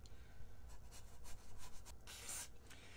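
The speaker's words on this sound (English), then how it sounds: "I'm gonna use a Scotch-Brite pad to clean it." A Scotch-Brite pad scrubs the metal thermostat housing of a 1953-1964 Ford gas tractor, a quiet, close, rough rubbing in short back-and-forth strokes.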